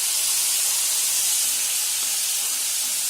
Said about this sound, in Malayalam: ഇനി നമ്മൾ ഈ മിക്സിയുടെ ജാറ് കഴുകിയ വെള്ളം ഒരു 2 സ്പൂൺ വെള്ളം മതി ഒഴിച്ചു കൊടുക്കുക